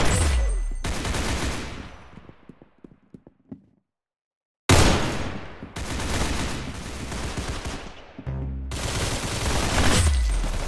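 Gunfire in the Roblox shooter game Arsenal, loud bursts of rapid-fire shots separated by a short silent gap, with a few softer clicks and impacts between the volleys.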